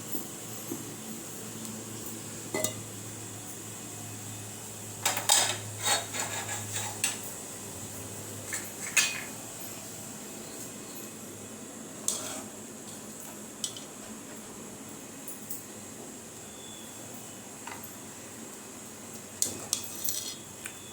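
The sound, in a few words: serving keema into dishes with cutlery and pots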